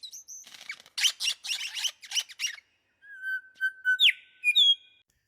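A superb lyrebird of southeastern Australia mimics other sounds: a fast run of buzzy chattering trills, then clear sliding whistles and sharp squeaky chirps, loud and close with no other noise around it.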